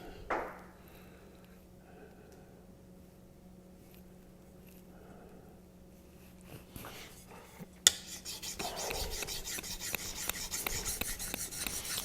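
A convex-edged knife being sharpened on a Naniwa diamond whetstone, steady rasping strokes starting up after a long near-silent stretch and continuing close and moderately loud to the end.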